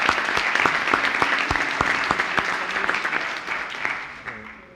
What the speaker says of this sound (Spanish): Y también termino con un aplauso para todos vosotros.